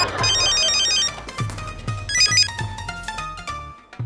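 A telephone rings with a bright, repeating electronic melody in short bursts, loud and close, with no one speaking over it.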